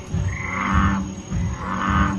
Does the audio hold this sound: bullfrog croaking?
yes